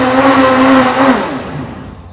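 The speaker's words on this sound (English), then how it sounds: "I'm going to put the lid on, and I'm going to blend it in the smoothie mode" A blender in smoothie mode whirs through pineapple juice and ice, a loud steady motor roar with chopping texture that winds down and fades out near the end, no voices.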